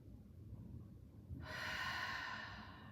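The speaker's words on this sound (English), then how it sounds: "Take a big breath." One slow, deep breath in, soft and close, swelling over about a second and a half after a quiet pause, in a calm yoga session.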